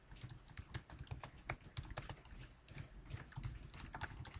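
Someone types on a computer keyboard in a quick, irregular run of soft clicking keystrokes, close up and fairly quiet, with no talking.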